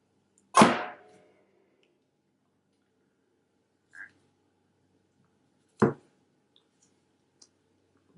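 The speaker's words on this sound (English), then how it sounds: "Let's cut into this and see how the bottom looks." A knife cutting into a bar of handmade Cinderella-inspired soap with a mica line, heard as a few isolated crisp clicks and snaps in near silence, one strong cut followed by fainter, shorter ones.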